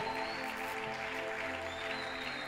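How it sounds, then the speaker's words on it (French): A church congregation claps together for themselves after a sermon, a steady, dense wash of applause filling the whole moment at moderate distance, with musical tones lingering beneath. "Acclame un peu pour toi-même."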